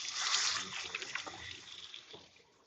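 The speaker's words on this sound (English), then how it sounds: "Rinse my hands." Water from a kitchen tap runs steadily as hands are rinsed, a close, broadband hiss that loudens early and then eases slightly over a few seconds, with no talking.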